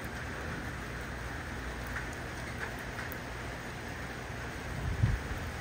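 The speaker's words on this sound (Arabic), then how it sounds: "طلعت من البيت تفاجأت بالمطر، مفاجأة حلوة" Steady rain falls outdoors in Dammam, a continuous hiss of drops on surfaces with a brief louder patter near the end, no voices.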